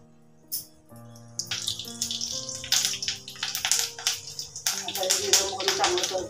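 Cumin, mustard seeds and curry leaves crackle and sizzle in two big spoons of hot oil in a pan, a bright steady spitting hiss with popping bursts that starts after a brief pause and builds, with music tones underneath.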